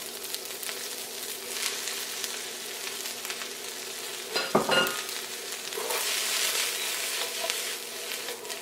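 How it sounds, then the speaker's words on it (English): Cabbage and mushrooms sizzle in a hot pan with garlic and onion, a steady close crackling hiss with a brief clatter of stirring midway and no talking. "Now I'm going to throw in the cabbage and the mushrooms."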